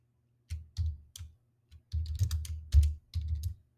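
Fingers typing on a computer keyboard while entering a budget into a Microsoft Excel spreadsheet, soft close keystrokes in uneven clusters with brief pauses, fairly quiet and free of speech.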